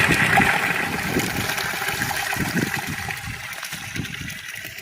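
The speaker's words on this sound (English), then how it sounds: "how the water kind of runs from there into this pond" Water runs continuously into a park pond at Centennial Park in Owasso, Oklahoma, a close, steady gush and splash with a faint low rumble beneath, holding fairly level across the clip.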